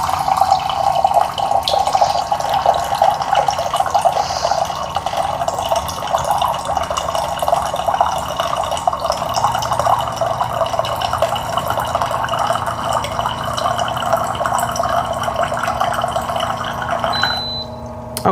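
Water runs steadily from a Hydrofast C100 filter into a glass, a close, continuous pouring trickle that stops abruptly near the end.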